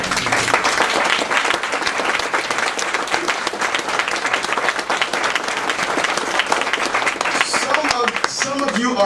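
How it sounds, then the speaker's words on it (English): A congregation claps and applauds in a dense, loud, sustained burst of many hands, with a voice briefly rising over the clapping near the end. "you better clap your hands"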